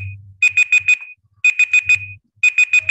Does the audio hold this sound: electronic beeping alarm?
yes